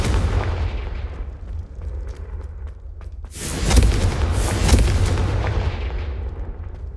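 A Confringo fire spell explodes in Hogwarts Legacy on PS5, a loud booming blast that swells suddenly midway after a low rumbling lead-in, with a second burst of crackling debris.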